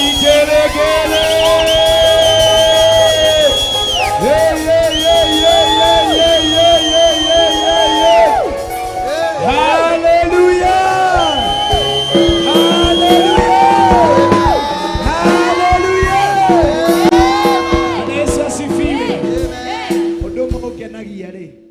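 A church congregation at a prayer service erupts loudly, with high wavering ululation, shouted cheers and whoops layered over clapping for a long, sustained stretch.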